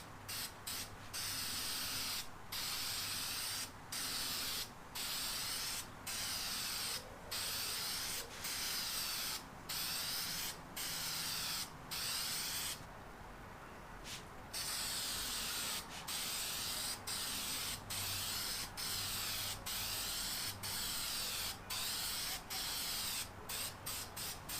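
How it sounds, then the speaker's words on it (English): Repeated bursts of an aerosol can spraying engine paint onto a Honda engine block, short hissing passes separated by brief pauses, close and steady with no talking. "Now here comes the fun part, spraying the engine paint"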